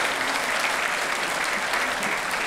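Sustained audience applause at a mayor's men's breakfast meeting, a dense, steady wash of many hands clapping at close range throughout, with no talk over it.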